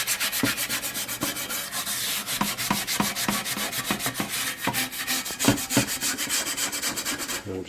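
Vigorous scrubbing of a Lodge cast iron skillet with kosher salt and a little water, rapid rhythmic gritty strokes repeating close and loud throughout, no talk.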